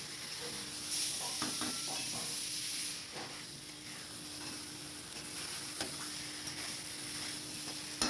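Egg and pointed gourd sautéing together in a pan, a continuous soft sizzle and hiss with occasional stirring scrapes and clinks, close and steady, with no talking.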